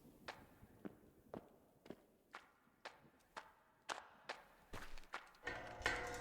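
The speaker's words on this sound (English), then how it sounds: "Okay, so you can like super stomp spam." Heavy stomping footsteps in a video game thud in a steady, rapid series of about a dozen impacts, loud and close, growing denser and noisier toward the end with no talk over them.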